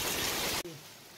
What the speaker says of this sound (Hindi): बारिश तेज बारिश हो रहा है,